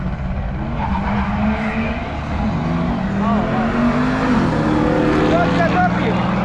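An Audi and a Dodge Ram drag race at Mostar, with engines roaring loudly and tires squealing nearby as voices talk over the noise.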